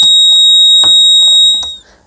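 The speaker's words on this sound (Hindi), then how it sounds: "तो अभी आप देख सकते हैं ये बजर भी जो है कि पूरा ऑन हो गया है" An AC 220V security alarm circuit's buzzer sounds a loud, piercing steady tone close by, holding for nearly two seconds before cutting off, with a few faint clicks and handling noises underneath.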